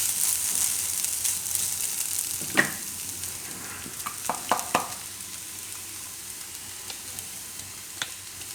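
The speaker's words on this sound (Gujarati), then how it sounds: "તો હવે આ જે તેલ આપણે છે એમાં જ આપણે આ નારિયેળને શેકી લેવું." Grated coconut roasting in oil in a frying pan, a steady close sizzle with a few soft scraping stirs.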